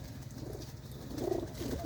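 Racing pigeons in a loft near Jalandhar coo softly in low, murmuring phrases, with a steady hum of background noise throughout.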